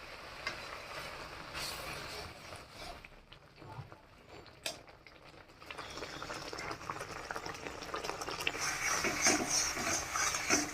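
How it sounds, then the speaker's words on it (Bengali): A watery, spiced eggplant curry gravy simmers in a pan with soft, continuous bubbling and gentle gurgles that grow slightly louder toward the end. The sound stays quiet and close, with occasional light stirring clinks. "ঝোলটা ফুটে উঠছে"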